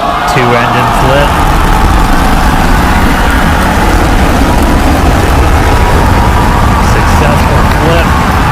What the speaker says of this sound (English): going for a landing burn, trying to light 2 of these Raptor sea level engines